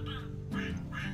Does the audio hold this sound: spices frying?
no